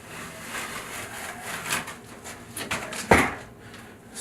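Trowel scraping and smoothing thinset mortar over Kerdi tile backer board on a wall, a series of close, uneven gritty swipes with one sharper knock partway through, and no talk.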